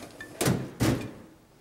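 A drawer on a photographer's studio cart slides and knocks twice, two close, sharp wooden-sounding thuds about half a second apart in a quiet room.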